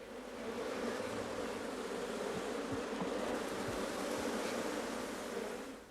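Honey bees swarm at an opened hive on an estate, a dense, steady buzzing drone that fills the whole stretch, close and unbroken, with no voices.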